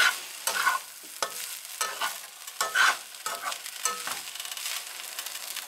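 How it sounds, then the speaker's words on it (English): Food sizzles and crackles steadily in a hot pan, with bursts of scraping and clattering as it is stirred around, close and fairly loud. "You can listen to him sizzle."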